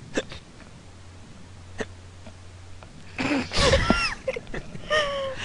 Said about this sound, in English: Asahina has hiccups